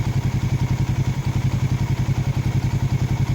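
A Suzuki Raider Fi 150 motorcycle idles nearby with a fast, even low-pitched pulsing while its radiator fan spins, making a steady whir under the engine.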